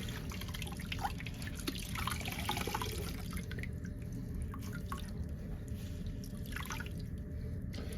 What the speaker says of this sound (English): I'm just gonna wring this stuff out the best I can.